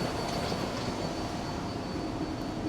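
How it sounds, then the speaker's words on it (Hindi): A Singapore metro train rolls along with a steady, close rumble and broadband rushing noise, an even drone with no break and no voices over it. "और ट्रेन कुछ इस तरह की है,"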